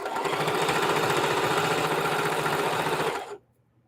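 A sewing machine stitches quilt fabric toward a pinned mitered corner in a steady, continuous rapid whir of needle strokes for about three seconds, close and fairly loud, then stops abruptly into near silence.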